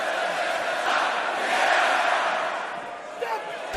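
An arena crowd in London cheers during a WWE match involving Braun Strowman, a broad, loud roar of voices that swells mid-clip and then eases, with a sharp impact near the end.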